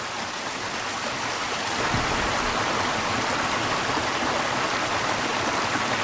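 A fast-moving freshwater stream rushes continuously and loudly up close, a dense, steady wash of water with no voices.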